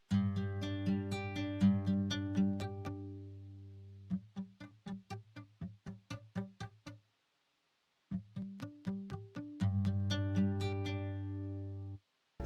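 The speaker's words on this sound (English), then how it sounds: "And then the damp slider affects how much is being muted on those notes or the chord." UJAM Silk 2 virtual guitar with damping applied: plucked notes and chords alternate between ringing sustain and short, choked, muted plucks, played softly and alone in separate phrases with brief silences.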